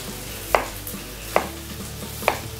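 A knife cuts through a mild onion on a cutting board in three crisp, evenly spaced chops in a quiet kitchen.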